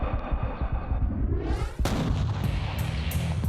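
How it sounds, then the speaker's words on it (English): Single rifle shot fired while hunting outdoors, a sharp loud crack with a rolling echo, following a low rumbling background. "Great shot!"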